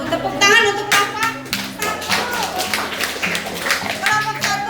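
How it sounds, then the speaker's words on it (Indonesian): Applause from pupils in a classroom at the end of a group presentation, a dense stretch of clapping that fills the whole clip at steady loudness, with a children's song and speech mixed in. "Tepuk tangan untuk Bapak."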